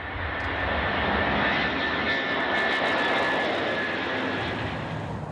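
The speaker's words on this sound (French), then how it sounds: "Entre les usines, les pièces sont transportées par ce géant du ciel, le Beluga." An Airbus Beluga transport aircraft flies past with a loud, steady jet engine roar that fills the whole stretch, heard alone with no talk.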